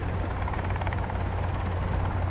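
A helicopter in the video game Sons of the Forest drones steadily with a dense rotor chop and engine hum, loud and constant throughout, no speech over it.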